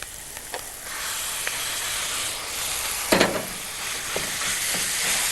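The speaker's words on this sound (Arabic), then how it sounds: "لما تتحط في قلب الزبده على النار مع بصل" Onion sizzles steadily in butter in a pan on the stove, a continuous bright hiss with occasional clinks of a spoon stirring.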